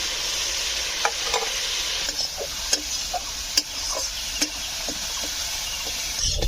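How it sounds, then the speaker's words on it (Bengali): Potatoes fry in a pan with a steady close sizzle, punctuated every half second or so by sharp scrapes and taps of a spatula stirring them. "বন্ধুরা আলু ভাজা হয়ে গেছে"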